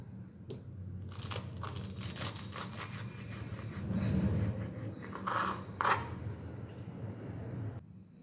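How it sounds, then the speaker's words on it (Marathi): A knife cuts the stems off fresh spinach leaves during home cooking prep, giving soft raspy scraping and crunching strokes, with a few crisper snips near the end, close up and fairly quiet. "आता ही जी आहे ना त्याचं आपण फक्त देठ कापून घेऊयात"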